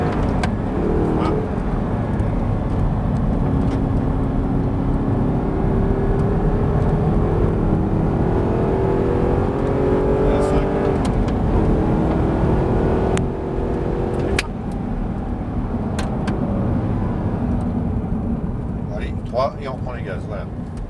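An Audi R8 on the Lohéac race circuit during a driving course gives a steady, loud engine roar with rising pitch as it accelerates through the gears, while an instructor talks over it.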